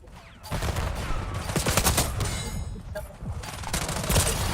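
SMG fire in Call of Duty Black Ops 6 rattles in sustained rapid bursts, dense and loud, with brief dips between strings of shots.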